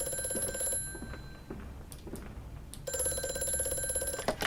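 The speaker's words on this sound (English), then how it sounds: "Oh, here's that phone call I was talking about." Old-fashioned telephone in the game Amnesia: A Machine for Pigs ringing with a loud, metallic bell, two long rings separated by a pause with scattered clicks and footsteps, close and clear.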